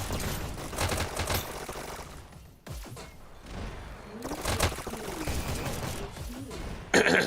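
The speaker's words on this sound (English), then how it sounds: "Back on Kit with these SMGs." SMG gunfire in a VR e-sports league match rattles in dense, rapid bursts that run almost continuously, with one short lull in the middle.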